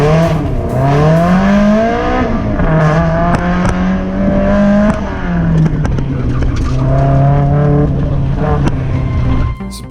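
A Mazda Miata spec race car lapping a track, its engine loud and close, revving up through gears with pitch climbing and dropping at each shift, running steadily throughout.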